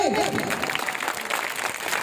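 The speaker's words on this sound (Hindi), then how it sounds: "क्लैपिंग करें, जोरदार तालियां।" A school audience at a Pakistan Resolution Day function claps together in a brief, moderately loud wash of applause, following a short spoken voice at the start.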